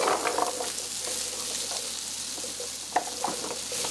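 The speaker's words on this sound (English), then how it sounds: "we're going to cook in the bacon fat" Potatoes fry in bacon fat in a pan for potato soup, a steady close sizzle with a few stirring clatters and one sharp knock near the end.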